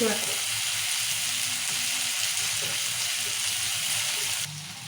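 Tomatoes and chopped vegetables for a bottle gourd curry fry in hot oil with a steady, close, hissing sizzle that barely changes throughout, easing slightly in the last half second.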